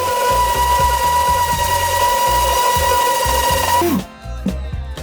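A loud electric sander buzzes steadily on wood for a window seat bench, with a rattling, pulsing motor drone, then winds down abruptly near the end, leaving a few faint knocks.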